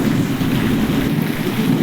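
Heavy monsoon downpour in Gujarat, a dense, steady roaring wash of rain close by with no pauses.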